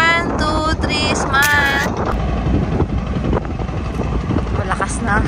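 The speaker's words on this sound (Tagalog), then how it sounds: "Malakas na ang hangin again." Strong wind roars and buffets the microphone in a constant rush at Weathington Park in Alabama, while people talk over it nearby.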